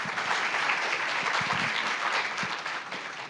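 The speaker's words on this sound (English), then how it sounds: "Give a big round of applause for them." An audience applauds panelists at an opening ceremony, a steady dense wash of clapping that fills the whole stretch, slightly easing toward the end.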